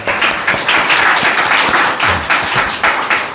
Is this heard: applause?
yes